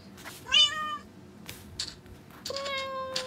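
A Minecraft cat meows twice, a clear drawn-out mew early and another longer one near the end, loud and close over soft background clicks.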